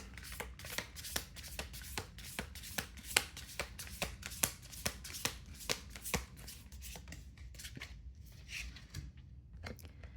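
Tarot cards are shuffled by hand in a quick, regular series of crisp riffling snaps, close and clear, continuing steadily for about ten seconds before thinning out near the end.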